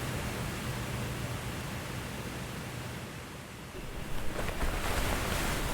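Ordinary sound run through a Space Modulator effect, giving a steady rushing, waterfall-like wash with a fluttery, crispy texture that grows denser near the end, evoking bird wings flapping.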